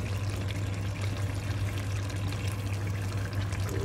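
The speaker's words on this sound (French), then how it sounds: "Donc on va mettre nos légumes." Green vegetables going into a pan to be sautéed, a steady dense pour-like rush with a constant low hum beneath, close and continuous, no voices.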